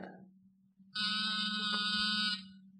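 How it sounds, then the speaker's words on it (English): An ordinary door buzzer powered by a small battery set gives one steady, harsh electric buzz lasting about a second and a half, alone over a low background hum in a radio drama scene. "That's nothing but a small buzzer and battery set. An ordinary door buzzer."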